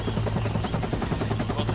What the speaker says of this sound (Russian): работаем сегодня с воздуха, с вертолета